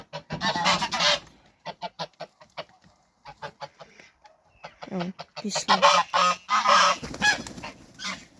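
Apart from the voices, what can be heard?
birds squawking loudly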